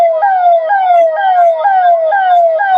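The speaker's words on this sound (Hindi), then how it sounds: "ये सायरन जो है ये 7 बजे बजना था और ये सायरन बज रहा है" A mock-drill air raid siren wails loud and clear in Ranchi's Doranda neighborhood, its pitch stepping up and sliding down in a steady repeating cycle about every half second, with no voices over it.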